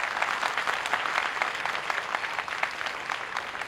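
A comedy debate-show audience bursts into steady, dense applause, many hands clapping together at close range for the whole stretch with no voices over it.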